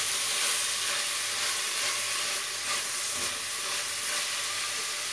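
Spinach soup ingredients sizzle and fry steadily in a pot while being stirred, a dense continuous hiss close up with faint scraping, no voices.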